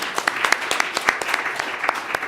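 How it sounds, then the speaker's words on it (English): Applause for symposium panelists fills the moment, brisk rapid clapping from a modest audience heard close and steady for a couple of seconds. "A big hand of applause to them."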